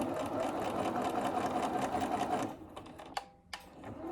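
A sewing machine back-stitches over the pleat of a fabric face mask, running in a steady close whir for about two and a half seconds, then stopping, followed by a few faint clicks and taps.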